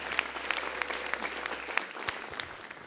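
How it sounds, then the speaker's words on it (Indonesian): An audience at a stand-up comedy show claps together, a dense burst of hand claps that fades out over a few seconds. "Tepuk tangan buat ibu-ibu yang ada di sini."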